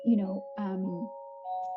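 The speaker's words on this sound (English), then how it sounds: "the doorbell has rung and the dog is" A doorbell chimes indoors, two clear tonal dings ringing out and sustaining, close and fairly loud, followed by a softer third tone.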